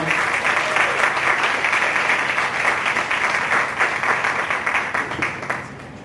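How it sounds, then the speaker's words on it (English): A conference audience gives a sustained round of applause, a broad, loud wash of many hands clapping at a steady level that thins out toward the end, with faint murmuring underneath. "Let's give those folks a round of applause."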